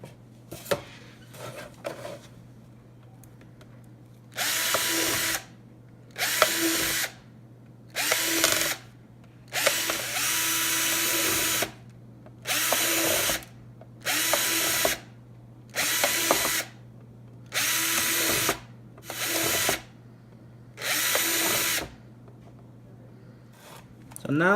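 Power drill boring holes into the plastic sides of a compost bin, about ten short loud bursts in an even rhythm with pauses between, a steady low hum underneath and a voice speaking early on.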